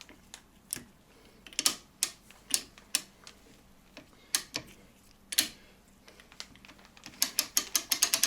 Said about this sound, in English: We'll put the end of the spring winder, attach that.